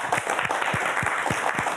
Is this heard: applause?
yes